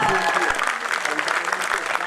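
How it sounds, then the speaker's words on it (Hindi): An audience at a Hindi kavi sammelan poetry recital breaks into steady, dense applause that carries on throughout, with a few voices underneath. "एक बार तालियां उनके लिए बजे"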